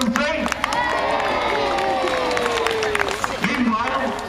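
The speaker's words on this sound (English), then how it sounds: "Give the lads a big cheer, 1, 2, 3." A crowd cheers at an outdoor naval battle show in Peasholm Park, Scarborough, with a broad, sustained roar of voices and scattered claps mixed with speech, lasting several seconds.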